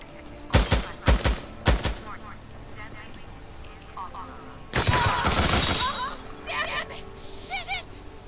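Sniper and gunfire shots in the video game Days Gone crack in a quick burst of three sharp reports, followed by a louder sustained blast of firing and chaotic noise, with voices exclaiming over the action.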